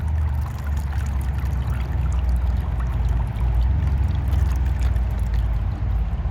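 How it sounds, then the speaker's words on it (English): Water pours and splashes steadily out of a tilted tub of washed wool, a continuous rushing drain close by with no talking. "tilt it so that the water drains out."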